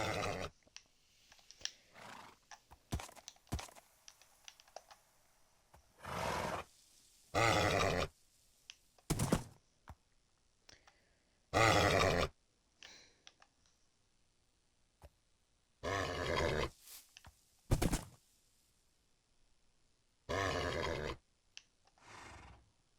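Minecraft horse neighs and whinnies in a string of short, loud bursts spread across the stretch, with quieter game clicks and thumps between calls and no talking.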